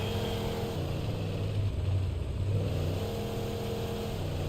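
Car engine revving and droning steadily while driving in Alan Wake Remastered, a continuous mid-pitched motor hum with no talking.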